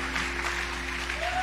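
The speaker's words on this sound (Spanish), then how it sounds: "siga aplaudiendo al Rey" A church congregation applauds during a worship service, a brief, even patter of clapping at moderate distance with a low hum beneath it.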